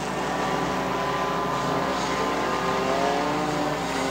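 A Street Stinger race car on a speedway roars past at close range, a loud sustained engine drone with shifting harmonics that swell and fade, with no voices over it.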